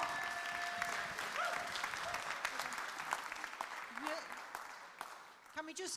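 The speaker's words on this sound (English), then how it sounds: "Can we just give Andy one more round of applause?" Applause from a church congregation at a Sunday morning service, a steady wash of many hands clapping that fills the whole stretch, with cheering and calls mixed in and the crowd's voices carrying over it.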